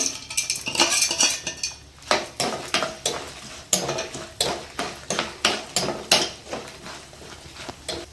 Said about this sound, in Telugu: ఇదిగోండి మినపప్పు, పచ్చెనపప్పు, నువ్వులు కూడా వేసి వేగించుకున్నాం.